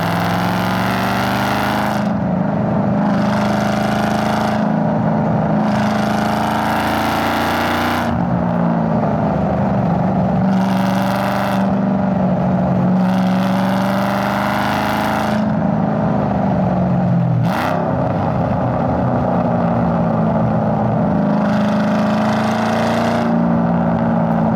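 A 786bhp 2005 Ford Mustang driven hard on a wet road in Britain roars with a loud, sustained engine drone that climbs and drops through repeated surges as it accelerates, with no talking.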